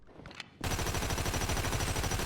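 Gunfire in GTA 5, a faint rustle followed by a sudden dense burst of rapid automatic shots that continues loud and unbroken to the end.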